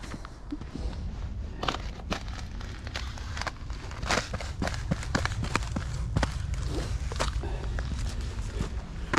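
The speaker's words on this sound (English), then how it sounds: "might be able to hear the snow crunching" Footsteps crunch on snow on an English winter walk, a steady rhythm of close, crisp crunches that continues throughout with no voices.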